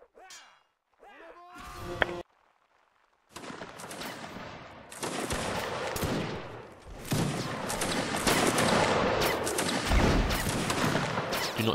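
Musket gunfire in the Napoleonic Wars video game rattles in ragged, overlapping shots near and far, building into a sustained crackling fusillade after a brief voice and a pause.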